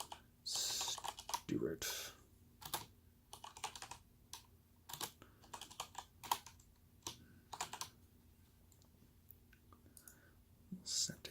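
Clicky computer keyboard keys tapped in short irregular bursts, mostly arrow and Alt keystrokes, close and fairly quiet, with a brief spoken word partway through.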